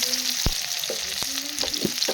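Chopped onion frying in oil with cumin seeds, a close, loud continuous sizzle broken by several sharp scraping stirs of a spatula against the pan.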